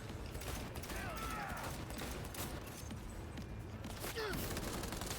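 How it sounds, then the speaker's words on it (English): Rapid bursts of gunfire from wild shooting in the video game Cyberpunk 2077, dense and continuous across the clip with mechanical clatter mixed in, loud and close. "Now I'm just shooting wildly."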